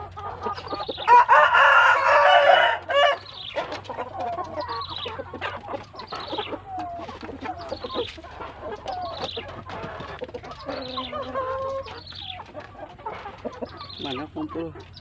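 A black Bangkok rooster crows loudly and close by, then carries on with a run of clucks and throaty calls; a person talks briefly among the bird sounds.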